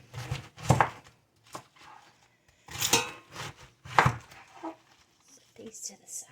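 A knife chops cabbage into 1-inch pieces on a board for a Mediterranean cabbage soup, giving irregular sharp thunks in short bursts and separated by pauses, with a person talking between the cuts.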